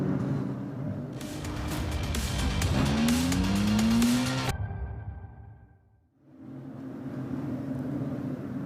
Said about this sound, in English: So the cars are just heading up towards Stowe Corner now.